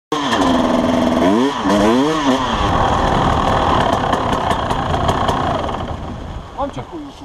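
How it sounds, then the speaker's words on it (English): A motorcycle engine rides through a forest, revving up and down in a wavering, buzzing whine, then tapers off toward the end. "while riding through the forest on his motorcycle"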